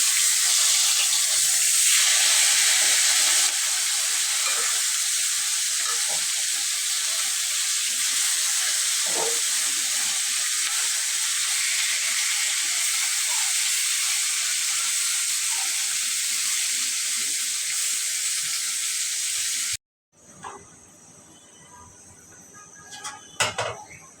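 Fish frying in a pan on a rainy day gives off a loud, continuous bright sizzle and hiss with faint crackles for about twenty seconds, then cuts to quieter kitchen clatter and a few soft knocks near the end.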